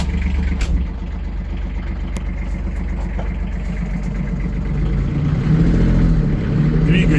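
A small diesel engine of an ISEKI Sial Hunter 253 Japanese compact tractor chugs steadily at idle after a glow-plug start, its low rhythmic knocking filling the clip and growing slightly louder toward the end.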